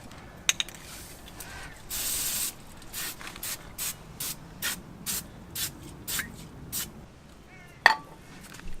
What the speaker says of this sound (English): Now you're just gonna go ahead and spray down.